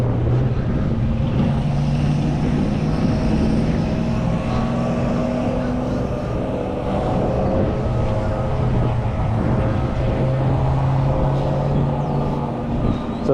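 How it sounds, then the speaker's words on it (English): Dense, steady traffic roar along a busy thoroughfare near Stuart Beach on Hutchinson Island, Florida, constant and loud throughout with no gaps and no talk. "there's going to be a lot of traffic noise on this one because we're walking along a pretty heavy thoroughfare"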